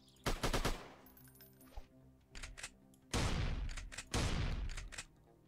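Pistol gunfire in a Unity3D video game: several loud bursts of rapid synthetic shots, some in quick clusters and others as longer sustained volleys, with brief pauses between.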